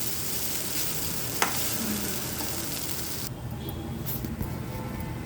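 Cashews and roasted gram frying in oil, a steady close sizzle with faint stirring scrapes and one sharp clink, running on without any speech.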